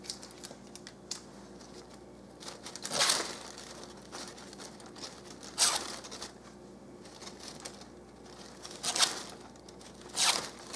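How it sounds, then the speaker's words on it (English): Gift-wrap ribbon is cut and curled with a scissor blade in a few quick, crinkly scraping strokes spaced several seconds apart, close and fairly quiet against a faint room hum. "I'm just going to go ahead and curl it. So I'm cutting off the extra."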